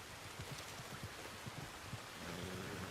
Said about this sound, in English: sounds like shit with the rain.